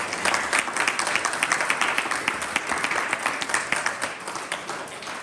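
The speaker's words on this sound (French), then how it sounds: "nous pouvons acclamer" A church congregation applauding together, a dense, lively run of clapping that holds steady and eases off slightly near the end.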